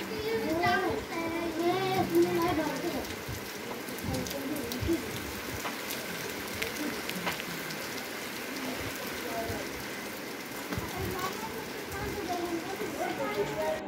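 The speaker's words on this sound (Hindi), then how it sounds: "मैं जैसे ही शॉप में आई हूँ फिर बारिश शुरू" Rain patters steadily on surfaces in a village outside a shop, a close hiss with scattered drops, while someone talks over it at the start and end and birds chirp faintly.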